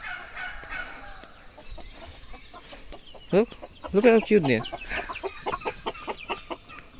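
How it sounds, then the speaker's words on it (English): Chickens clucking and crowing in a forest farm setting with cages, a run of short, close bird calls breaking out midway among scattered clucks, with someone talking briefly over them. "And they've got chickens."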